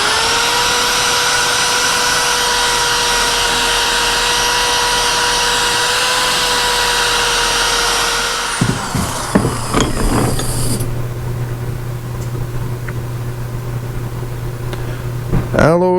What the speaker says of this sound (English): We're going to hit it with this little cup wheel,